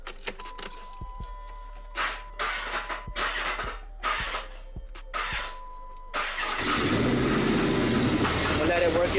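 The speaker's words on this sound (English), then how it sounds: "I'm gonna play with the starter a little bit to try to get it to build up pressure." A car's starter is worked in several short cranking bursts to build oil pressure, then one long sustained crank with a steady broadband roar, heard close by.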